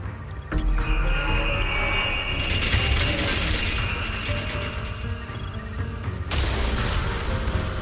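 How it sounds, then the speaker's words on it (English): Explosions in the video game Zenless Zone Zero: heavy booming rumbles and mechanical clatter layered in a continuous loud blast-filled soundscape, with a sharp break near the end before the din resumes. "Why are they exploding?"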